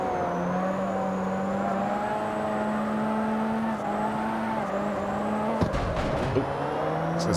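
Video game road traffic with cars driving across a bridge: a steady drone of engines and tires rolls on continuously, with a brief louder whoosh of a passing car near the end.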